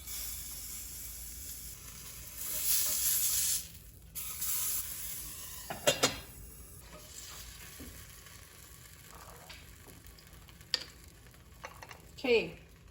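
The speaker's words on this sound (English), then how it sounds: "All right, we're gonna fry up a patty." Venison sausage patty frying in a hot pan, a steady sizzle that rises in bursts and fades, with occasional clatter and a brief voice.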